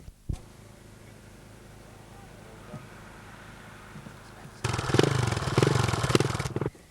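Vintage enduro motorcycles at a motocross test in a 1994 British championship, quiet at first, then a loud, close burst of revving two-stroke engine noise that holds for about two seconds and cuts off.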